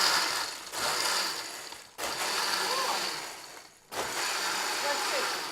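A blender liquefying a smoothie with ice, whirring loudly in three long bursts separated by brief pauses.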